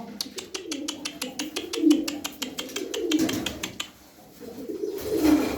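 Pigeons coo in soft, low, throaty rolls close by, accompanied by a rapid series of clicking or tapping sounds.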